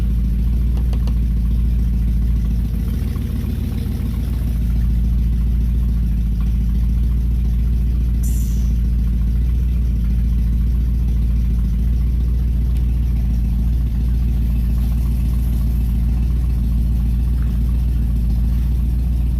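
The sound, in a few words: 1969 Buick Skylark GS engine idling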